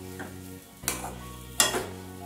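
Pointed gourd (parwal) being sautéed with spices in a pan for a low-oil curry, with two bursts of sizzling and stirring rising over a low steady cooking background.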